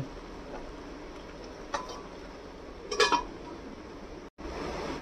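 A lid clinks down onto a pan of pointed gourd cooking over a medium flame for an oil-free masala dish, giving two short metallic knocks, one light and one louder, over a low steady kitchen hum.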